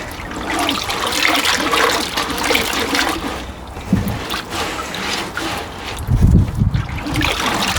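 Homemade liquid comfrey plant food is poured and sieved, making a continuous close splashing and trickling of water with a heavier gush near the end.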